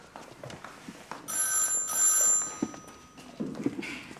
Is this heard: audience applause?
no